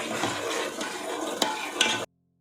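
Mutton biryani masala with turmeric frying in a pan, a steady sizzle with soft stirring scrapes and two sharper clinks of a utensil against the pan, then an abrupt stop.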